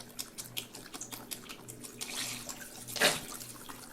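Beef broth glugs from a 32-ounce box into a crock pot, a string of close liquid splashes and drips that swell into a brief louder gush near the end, with no one speaking.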